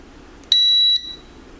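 A Radio Shack digital multimeter gives a single clean, high electronic beep of about half a second on its continuity test, clear and close against a quiet background.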